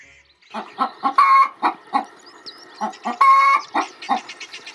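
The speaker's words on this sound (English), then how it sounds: "They are to be forgiven for crowing at random hours in the night or day" Chickens cluck and squawk in quick bursts, fairly close, with a few longer drawn-out calls rising above the rhythmic clucking.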